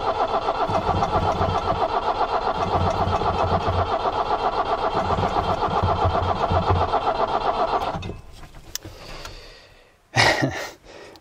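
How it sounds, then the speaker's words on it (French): An Iveco Daily 35-8 diesel engine with ultrasonically cleaned injectors runs loud and steady for about eight seconds under throttle, then falters and dies away before a brief final surge of engine noise. "Là, je mets des gaz."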